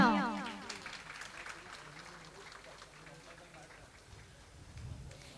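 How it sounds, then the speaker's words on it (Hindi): A crowd at a medical practitioners' association welcome ceremony in Mumbai claps and applauds steadily, moderately loud at first then settling, with a voice briefly heard at the start. "जोरदार तालियां।"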